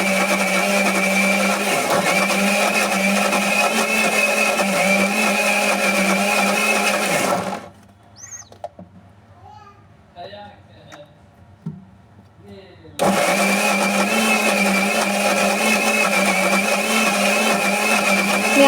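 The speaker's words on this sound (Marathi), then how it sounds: "मी आधीच डाळ आणि तांदूळ भिजत ठेवले होते, ते मी आता मिक्सरला लावून घेतले." A mixer grinder whirs loudly and steadily, grinding soaked dal and rice into batter, then stops for several seconds of near quiet with small kitchen sounds before the motor starts up again at full strength.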